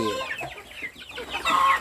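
Backyard chickens cluck and chatter in short overlapping calls, fairly close, with a brighter squawk near the end.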